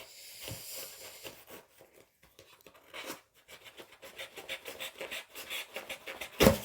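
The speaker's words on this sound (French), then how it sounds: "celui-ci, on va l'ouvrir. Avec un petit ciseau, ça serait mieux." Small scissors snip and scrape through the plastic packaging of a diamond painting kit, making a steady run of close, dry rasping cuts that grow denser and end in a sharp louder crackle, with no voices.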